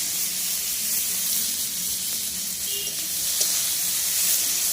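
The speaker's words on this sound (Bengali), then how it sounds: "রসুনগুলো প্রায় ভাজা হয়ে গিয়েছে। এবার এর মধ্যে দিয়ে দেবো সেই কুচি করে রাখা কুচির টুকরোগুলো।" Steady hiss of garlic and chopped pieces frying in hot oil, continuous and close, with a faint clink partway through and no voices.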